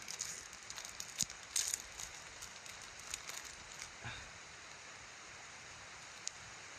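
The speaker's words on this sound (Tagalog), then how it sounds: "Umuulan na dito tol." Rain falls outdoors, a faint steady hiss of patter with scattered louder drops and crackles, quiet and even throughout.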